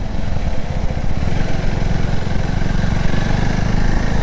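A KTM Duke 390 motorcycle engine runs steadily with a loud, close, throbbing drone, rapid even pulses at a constant pitch, as if idling or cruising, with no voices over it.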